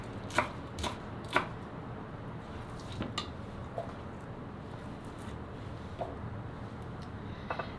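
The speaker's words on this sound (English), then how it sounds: "I'm just going to cut the ends off of the scallions" A knife cuts through scallions on a board as a few sharp chopping taps, irregularly spaced and fairly quiet, are heard against a soft room background.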